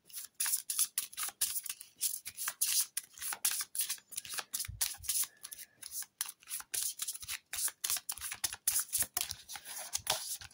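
Event cards being shuffled back into a board game deck, a dense run of quick papery riffles and flicks repeating steadily for about ten seconds, close and fairly soft with no talking.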